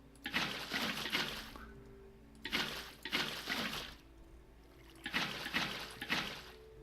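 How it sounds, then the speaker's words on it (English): Water pouring in from a ceiling in a modded video game cave, heard as three separate splashing, trickling bursts a couple of seconds apart, each fading before the next, fairly faint and without talk. "that is a source of water coming in from the ceiling"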